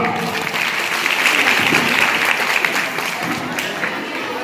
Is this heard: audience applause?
yes